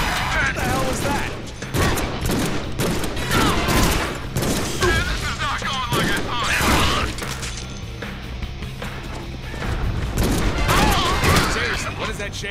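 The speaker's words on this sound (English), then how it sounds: "Now I have a machine gun!" Machine gun fire in the Deadpool video game, dense rattling bursts mixed with impacts and crashes, loud and near, with a voice talking in between.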